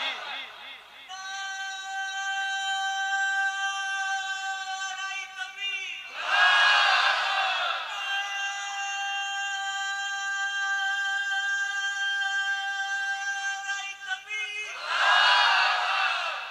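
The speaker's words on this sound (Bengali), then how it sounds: "তাকবীর মারো, দাও নারে তাকবীর।" A crowd at a religious gathering roars the takbir (Allahu Akbar) in two loud, massed shouts that rise over a sustained sung tone, then fall back.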